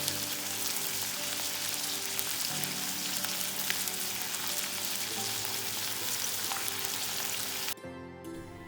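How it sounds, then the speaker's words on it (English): Steady, dense sizzling of fresh prawns frying in masala in a hot pan, continuous and close, with a brief drop near the end. "I will be adding 500 gram fresh prawns and continue frying."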